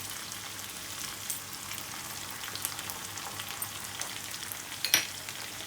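Chopped green chillies and ginger sizzle and fry steadily in a pan while making qeema chaney, a close, even crackle with a few sharper pops, and no one speaking.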